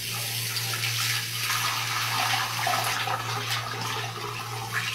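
Ten cloves rinsed under a running tap, a steady, close rush of water with a constant low hum beneath, no voices.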